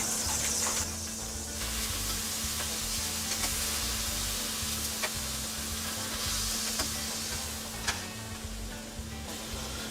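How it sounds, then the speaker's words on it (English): A fresh batch of flank steak searing in a hot pan on an electric stovetop, a constant crackling sizzle with occasional sharper pops and a faint steady hum beneath, no voices. "Add another batch of meat."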